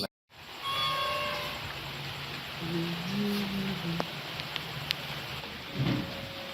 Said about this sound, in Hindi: बारिश शुरू हो गया भाई।